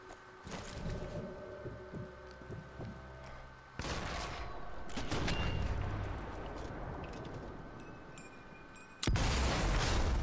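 Gunfire in Sniper Elite 4 during a wartime infiltration mission: several sharp, loud sniper rifle cracks with booming tails, the last one very close and heavy, over a continuous rumbling battlefield backdrop.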